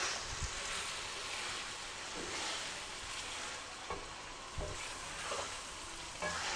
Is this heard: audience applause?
no